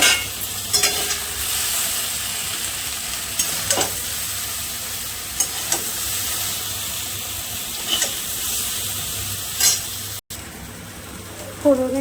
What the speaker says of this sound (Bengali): এদিকে আমার ঢেঁড়স ভাজাটা হয়ে গেছে